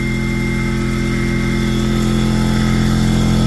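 Harbor Freight McGraw 21-gallon 175 psi air compressor powered by a 5,000-watt inverter runs with a loud, steady motor drone and rapid pulsing thump, close and unbroken for the whole stretch.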